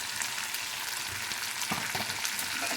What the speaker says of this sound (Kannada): ಉಳ್ಳಾಗಡ್ಡೆ ನೀಟಾಗಿ ಸ್ವಲ್ಪ ಕಂದು ಬಣ್ಣಕ್ಕೆ ಬರೋ ತನಕ ಬೆಂಚ್ಕೊಂಡ್ಮೇಲೆ